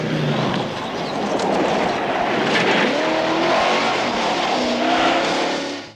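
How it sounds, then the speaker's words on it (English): An orange Dodge Charger races past at speed, engine roaring loud and steady with a rising, squealing edge from the tires, alone and close throughout. "two cousins, Bo and Luke Duke, who outran the law in their famous orange Dodge Charger"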